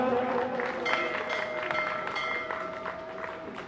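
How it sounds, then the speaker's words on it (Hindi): Audience applause at a Rath Yatra festival gathering: a moderate wash of clapping from a crowd, continuous and slowly fading, with a steady tonal hum over it. "जोरदार तालियां।"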